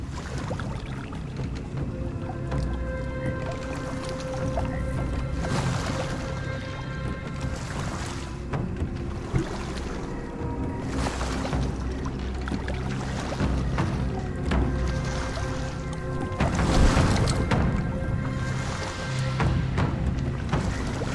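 Steady splashing and sloshing of water as a small rowboat moves along a bayou, continuous and fairly close, with faint background hum and no talking.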